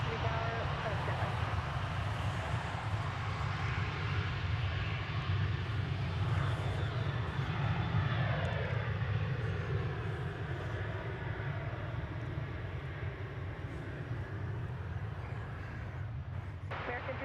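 An airplane at DFW Airport gives a steady, moderately distant engine roar and rumble over about seventeen seconds, with a faint shifting whine, under intermittent radio-style voices from air traffic control.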